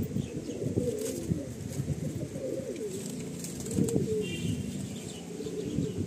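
A breeding pair of pigeons coo close by, soft repeated throaty calls in loose bursts, with a few chirps and brief wing flutters mixed in.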